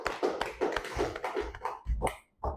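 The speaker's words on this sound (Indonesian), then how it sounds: "tepuk tangan untuk Radit" A classroom of students claps for a classmate in short, uneven bursts of hand taps, fairly close and moderately loud, with no talking over the clapping.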